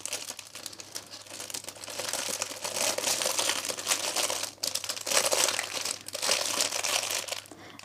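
Close, continuous crinkling of cellophane being handled to wrap chocolates, crackling and rustling in uneven bursts with no talking.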